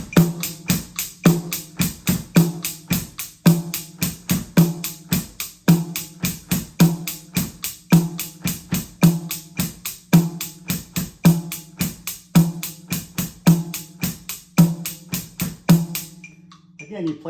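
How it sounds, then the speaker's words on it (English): Drum kit groove played alone throughout, with the bass drum on beats one and three plus the off-beat after three, under steady hi-hat or cymbal strokes in a repeating, even rhythm, then stopping abruptly near the end. "The first is the bass drum on 1 and then 3 and the end of 3."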